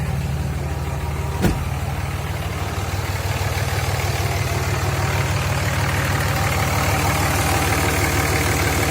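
A steady, low diesel engine idle from a 2003 Dodge Ram 5.9 Cummins rumbles evenly throughout, with a single sharp click near the start; close by, no voices.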